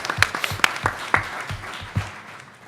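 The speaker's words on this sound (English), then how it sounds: "give me a round of applause" Scattered applause from a conference audience at a venture capital event as a startup pitch presenter is called up, with a handful of distinct, uneven claps over a soft wash of clapping.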